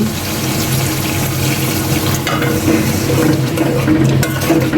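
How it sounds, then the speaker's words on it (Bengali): Water poured into a pot of beef being cooked down with potatoes, a loud, steady rushing and bubbling wash that stays constant throughout, close and with no talk. "মাংসটা ভালোভাবে সিদ্ধ করার জন্য আমি আর একটু পানি অ্যাড করে নিচ্ছি।"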